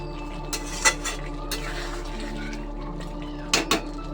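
A utensil clanks against a pan while chicken cooks with herbs, giving a few sharp scraping knocks over a steady low hum of frying.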